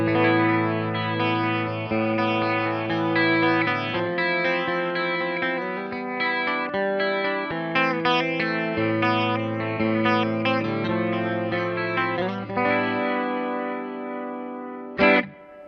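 Sustained electric guitar chords and melodic lines through a Fender Twin Reverb Tonemaster amp with a shimmering chorus-like modulation and light echo, played continuously and fairly loud, ending with a brief sharp strum.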